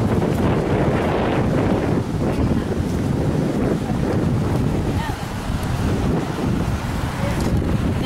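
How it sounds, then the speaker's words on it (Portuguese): Strong wind buffets the microphone at Praia dos Ingleses beach, a loud, constant roar with gusty low rumble and surf-like wash throughout. "De ventania aqui na Praia dos Ingleses, pessoal."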